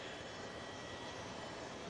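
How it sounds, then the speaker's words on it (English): Steady, even roar of an airplane's jet engines running, a continuous broadband drone with no breaks, fairly quiet and heard alone. "Those are the engines, and they push the airplane through the air."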